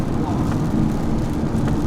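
A 2009 Nissan GT-R R35 drives on a wet road in the rain, heard from inside as a loud, steady low engine and road rumble with a constant wash of tyre spray and wind, and no gaps.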